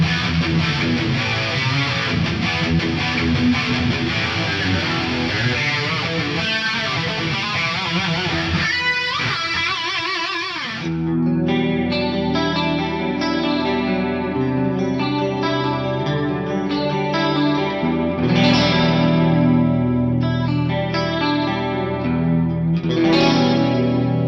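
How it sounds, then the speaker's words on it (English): Electric guitar playing chords and melody through a lush, shimmering quad chorus effect, with a brief pause near the middle before a fuller passage. "There's some quad chorus sounds like this one right here"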